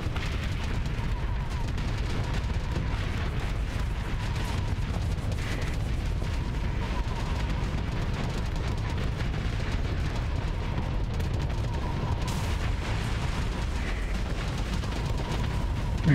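Spaceship weapons fire in Starsector near a station with Star Wars mods, a dense, continuous rumble of booming shots and blasts running throughout, loud and steady with no talk over it.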